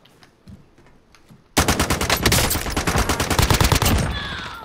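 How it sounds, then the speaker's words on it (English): Rapid automatic gunfire from a battle royale video game erupts suddenly after quiet, a dense, loud burst of rapid shots continuing steadily for about three seconds before tapering. "Who the fuck is shooting me?"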